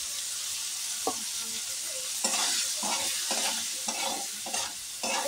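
Sliced bitter gourd with turmeric sizzles steadily in a pan, with a spatula stirring and scraping in a series of short, irregular strokes close up, and no talking.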